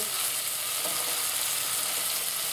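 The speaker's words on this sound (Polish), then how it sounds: "Także posmażamy nasze pomidory, żeby wszystko się razem złączyło." Close, steady sizzling and crackling of tomatoes frying in a pan for a tomato sauce, a continuous bright hiss with no voices.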